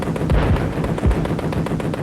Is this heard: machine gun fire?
yes